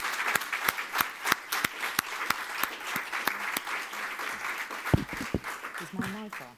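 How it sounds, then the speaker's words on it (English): A symposium audience breaks into a round of applause, with sharp individual claps standing out against a steady wash of clapping. Near the end a voice speaks briefly as the clapping carries on. "I think that deserves another round of applause"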